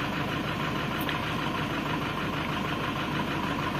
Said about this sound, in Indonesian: kok geter-geter mesin ini